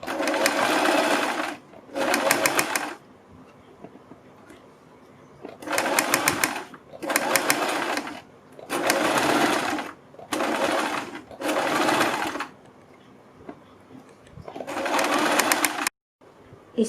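An electric sewing machine stitches the net neck of a kurti in a series of rapid, buzzing runs of a second or two each, separated by short pauses; close, steady and loud with no talking.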